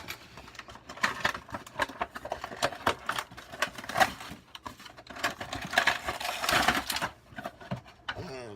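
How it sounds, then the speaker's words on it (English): Packing tape being peeled and torn from the top of a Transformers Siege Prowl toy box, a run of crisp crackling rips and scratchy bursts, close and fairly loud, with no talking. "we're going to go ahead and remove the tape from the top here and open up the package."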